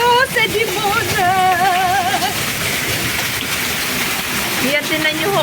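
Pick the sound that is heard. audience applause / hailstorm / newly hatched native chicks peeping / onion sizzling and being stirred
hailstorm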